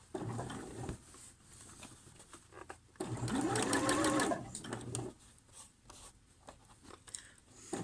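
A sewing machine runs in a steady burst while stitching the sleeve of a pyjama shirt, loud and close, with a quieter, softer working noise before and after the run.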